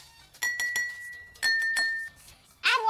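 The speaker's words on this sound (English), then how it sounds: "Use a spoon to tap each glass and compare the pitches." A spoon taps drinking glasses in a few quick clinks, each leaving a clear ringing tone, with a final sharper clink at the end.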